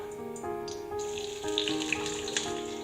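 Chopped garlic and ginger frying in coconut oil in a pan, a steady close sizzle and bubbling with light crackles throughout.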